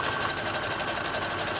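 A sewing machine runs steadily at a fairly even speed while stitching around a folded-under hem, a close, constant mechanical whir with no pauses and no voices.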